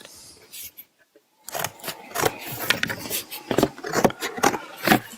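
Small squares are cut from thick cardboard in close, irregular bursts of scraping, crunching cuts that follow a short quiet start.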